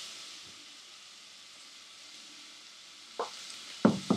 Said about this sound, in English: While the onion is sauteing